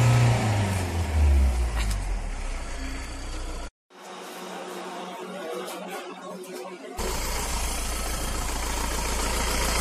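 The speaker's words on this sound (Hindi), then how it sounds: "एकदम स्मूथनेस आप देख सकते हो इंजन में" A Mahindra Scorpio diesel engine idles steadily after starting, a continuous low rumble close to the listener with a brief dropout partway through before the idle resumes; no talking.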